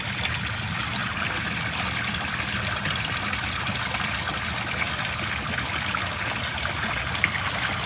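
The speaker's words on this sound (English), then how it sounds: "I have holes in the pipe where water can go in, bypassing a clogged filter." Steady trickling water running through holes in a pipe that bypass a clogged filter in a koi pond bog filter, continuous and close with no talk.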